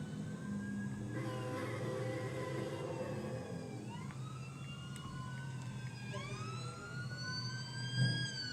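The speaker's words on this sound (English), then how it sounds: "Just heard a police car go by the Kearney rail cam." A police car siren wails past a railway camera in Kearney, its rising and falling tone sweeping through the scene at moderate distance over steady background rumble, swelling near the end.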